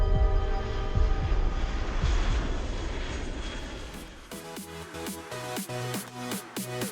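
Airplane engine in flight: a loud, steady broadband roar that fades after a few seconds into a rhythmic, pulsing drone with repeated tonal throbs, no voices.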